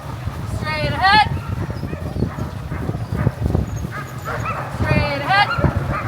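Sled dogs bark and yip eagerly during a dog sledding run near Juneau, Alaska, with short excited bursts over steady movement noise while a musher repeatedly calls commands to the team.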